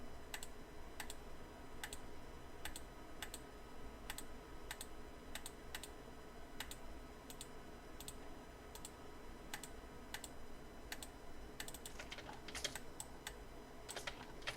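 Shift and other keys on a computer keyboard pressed during Photoshop work, a steady run of crisp, evenly spaced clicks over a faint background hum, with a quicker burst of keystrokes near the end.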